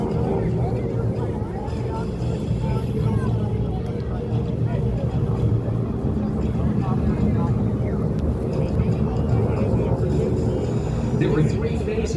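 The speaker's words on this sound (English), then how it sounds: "as they fly these four North American 86 Texan aircraft together in a variety of different formation shapes" Four North American T-6 Texan trainers fly together in formation at an airshow over Greenwood Lake, their radial engines a steady, loud, low drone throughout, with a commentator speaking over the noise the whole time.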